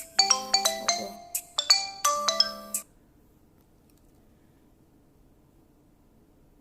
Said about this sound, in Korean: 잠시 전화가 왔었습니다